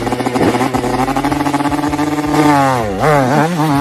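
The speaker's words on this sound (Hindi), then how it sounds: "ये भाई साहब जैसे ही बाइक स्टार्ट करते हैं" A motorbike's engine runs with a loud, close, rapid firing rhythm, then revs up sharply in rising and falling surges as it pulls away.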